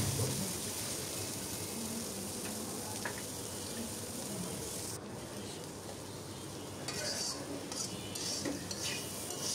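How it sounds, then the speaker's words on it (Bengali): Bitter gourd (karela) fries in a pan, its steady sizzle joined by scraping and light clinks as a utensil stirs the pieces. "এই তো করলা প্রায় ভাজা হয়ে গেছে।"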